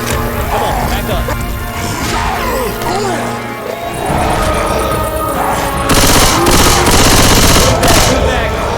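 Gunfire from Left 4 Dead 2 keeps up in dense bursts with booms and crashes under a busy game soundscape. The sound is loud throughout, and voices shout over it.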